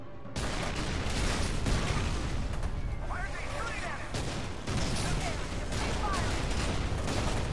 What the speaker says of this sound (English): I'm shooting this guy!